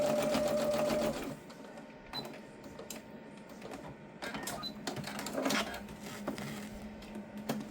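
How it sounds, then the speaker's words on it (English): A sewing machine stitches fabric for a scrappy dish draining mat, a steady mechanical whir at first and then lighter intermittent running with pauses, close and moderately quiet. "much easier to sew on a 3 millimeter stitch length"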